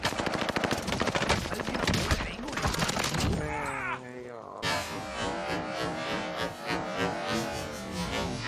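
Rapid hip-fire gunshots from the video game Warzone Caldera crack in a dense automatic burst. After a short break the firing starts again, thinner and steadier, with clatter from the game mixed in.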